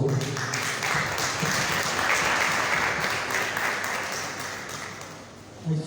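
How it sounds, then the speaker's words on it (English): An audience applauds Liberian health professionals at the launch of the Johnson & Johnson COVID-19 vaccine in Liberia, a full, sustained round of clapping that tapers off near the end. "Please join me in giving me the hard-working Liberian health professionals responsible for this success a big hand of applause."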